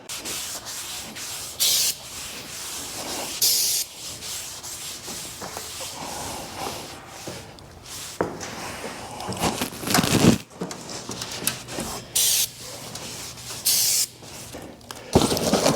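Aerosol spray paint hissing onto a repaired exhaust on a CAT wheel loader with 19,000 hours, in a series of short and longer bursts with rubbing and crinkling handling noises between them.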